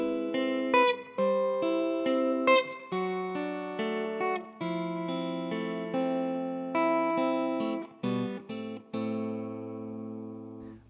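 Electric guitar plays the section of a song that follows the intro, with steady arpeggiated chords through chorus, reverb and an effects unit, loud and close, without talk.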